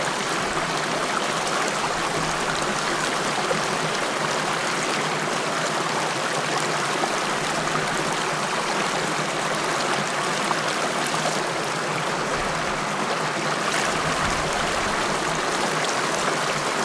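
A Dartmoor stream flowing steadily while water is collected, a close, continuous broadband rush and trickle running evenly throughout with no talk over it.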